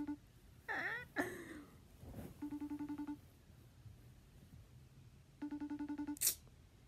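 A phone ringback tone repeats in two distinct bursts of pulsed rings while a call goes unanswered, with brief chirpy noises and a sharp click in between, fairly quiet overall.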